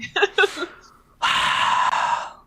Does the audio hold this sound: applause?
no